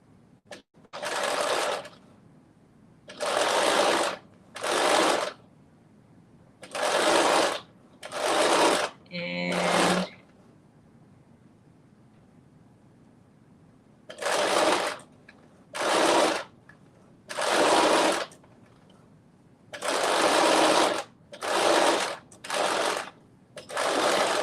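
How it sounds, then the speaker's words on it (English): Sewing machine stitching fabric in loud, close bursts of rapid needle clatter separated by short pauses, with a brief back stitch at the end and a longer quiet gap midway. "And then I'm going to do a little back stitch at the end."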